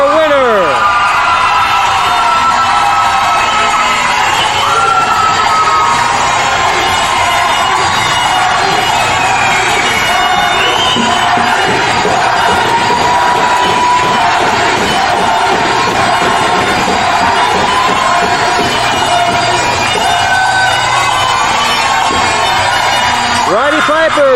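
A loud, dense wrestling crowd cheers and roars without pause after a Roddy Piper flag match, with shouts and whoops throughout and a commentator talking over the din.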